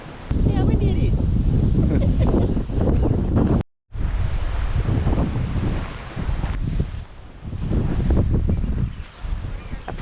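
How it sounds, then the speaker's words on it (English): Strong wind buffets the microphone in heavy, roaring gusts, with a rushing surf-like wash beneath and voices partly buried in the noise. "See how windy it is?"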